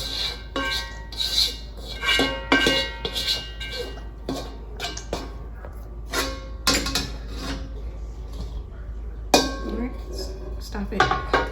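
Cooked stir-fry vegetables are scraped from a pan into a bowl, with clinking and scraping of utensils on cookware in a series of uneven strokes, fairly close, with some voice in between.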